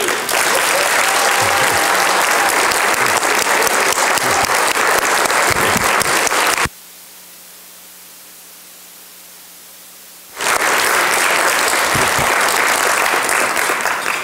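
Audience at a conference banquet applauding loudly and continuously, a dense wash of clapping that cuts out abruptly into near-silence for a few seconds, then resumes at full strength.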